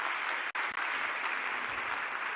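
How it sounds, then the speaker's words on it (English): A live audience at a talk applauds, a dense, steady wash of clapping from many hands filling the room without pause apart from a brief dip. "Give yourselves a round of applause."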